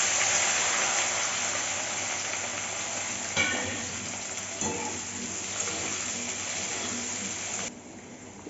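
Chopped onion and capsicum fry in a hot wok for a chilli chicken gravy, a steady dense sizzle running throughout with brief stirring scrapes midway, ending in a sudden drop as the heat fades.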